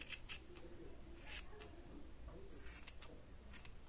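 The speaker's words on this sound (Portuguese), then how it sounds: "E vem com a tesoura, acertando essas pontas, olha." Scissors snipping the ends of a mini plastic PET bottle craft, a few quiet crisp cuts spaced out against a soft background hiss.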